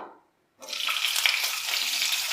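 Sliced onions dropped into hot oil in a kadai, setting off a sudden loud, bright sizzle after a brief silence that then holds steady and continuous, with no voices.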